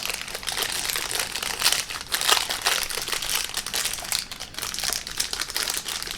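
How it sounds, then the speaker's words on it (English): A plastic bag holding a Cadisen watch crinkles and rustles close up in continuous bursts of crackling as it is handled, loudest in the middle, with no talking. "Plastic bag here."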